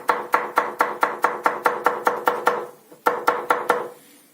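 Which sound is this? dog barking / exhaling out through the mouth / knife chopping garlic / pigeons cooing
knife chopping garlic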